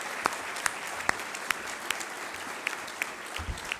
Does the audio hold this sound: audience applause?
yes